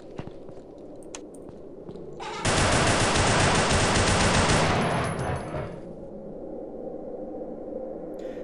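Rapid gunfire in the horror video game Afraid of Monsters: Director's Cut erupts as one loud, sustained automatic burst lasting about two seconds, framed by quieter ambient game sound before and after.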